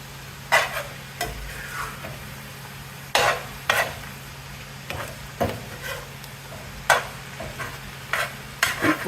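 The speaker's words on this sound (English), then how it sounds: "you just move it around in the oil and the onions, and you let it continue to cook" Poke sallet greens being stirred in hot oil and grease with onions, a steady frying sizzle broken by repeated scraping stir strokes from a spoon against the pan, close and fairly loud, no talking.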